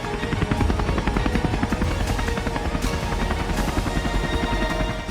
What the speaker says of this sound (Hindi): हेलीकॉप्टर उड़ान भर रहे हैं